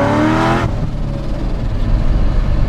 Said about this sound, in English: you can hear the exhaust go from quiet to loud